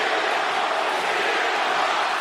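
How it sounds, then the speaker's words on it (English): A wrestling crowd chants for CM Punk, a dense, steady roar of many voices filling the arena without pause. "Chanting for CM Punk"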